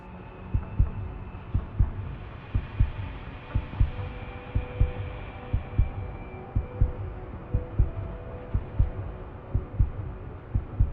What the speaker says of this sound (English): when you pull up the upgrade menu, you hear a distinct heartbeat